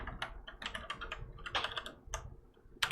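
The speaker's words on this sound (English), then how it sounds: "if I type that all in correctly" Code being typed on a computer keyboard in quick irregular bursts of close, crisp key clicks with short pauses between runs.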